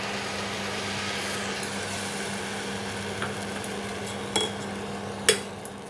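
Gram dal and jaggery filling being stirred in a pan, a soft continuous scraping with a faint sizzle, broken by a couple of louder clinks of the spoon against the pan near the end.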